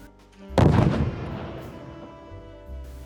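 Blasting charges go off to clear sediment plugging a cave in a Victorian quarry, producing one sharp, loud boom that rolls away into a long, rumbling decay.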